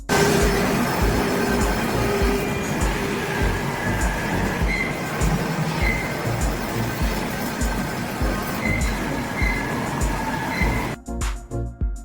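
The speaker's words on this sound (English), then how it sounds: "A female train engineer is shoveling coal into the firebox to power the steam locomotive." A coal-fired steam locomotive rumbles steadily with clattering wheels and faint metallic squeals, loud and continuous, cutting off abruptly near the end.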